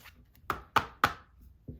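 Knocks on a tarot card deck: three sharp, evenly spaced raps close up, followed by a softer fourth tap, with no talking.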